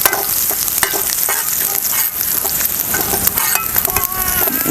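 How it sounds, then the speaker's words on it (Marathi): Finely chopped garlic sizzles in hot oil for a tempering in a traditional village-style shengole dish, a continuous bright crackle with stirring scrapes throughout. "आणि ह्यामध्ये घालूया लसूण"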